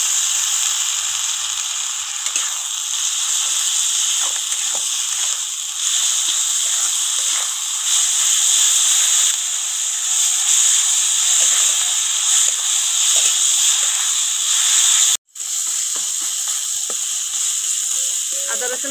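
Ginger-garlic paste sizzles loudly in a pan with marinated mushrooms and chopped green chillies, a constant close hiss broken by one brief cut near the end, with no talk over it.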